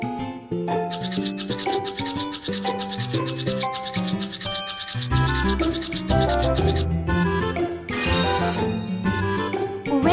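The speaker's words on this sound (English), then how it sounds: "Brush the teeth." Cartoon toothbrush scrubbing teeth, a rhythmic rapid rasping rub repeated over bright tinkling music, with a louder sparkly burst near the end.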